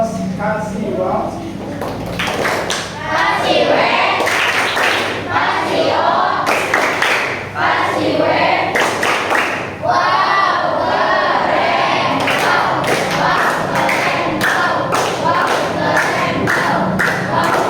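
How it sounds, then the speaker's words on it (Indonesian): Classroom applause after a group presentation: a crowd of students claps loudly and continuously, with cheering and excited shouting mixed in throughout. "Kita beri aplaus kasih wow."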